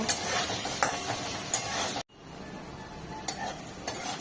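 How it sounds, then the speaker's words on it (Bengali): Bright, crackling sizzle of turmeric-dusted potato slices frying in hot oil, with occasional clicks of stirring; a brief cut midway, then quieter sizzling continues. "আলুগুলো এবার আমি লাল লাল করে ভেজে নেব।"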